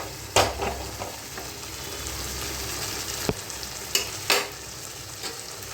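A spatula stirs Assam-style aar fish curry in a kadai over a steady low sizzle, with a few distinct scraping knocks against the pan, close by and without talking.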